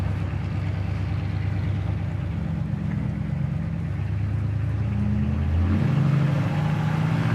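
A 1962 Chevrolet Impala engine idles with a deep, throaty rumble, then revs up briefly, the low tone climbing before settling again.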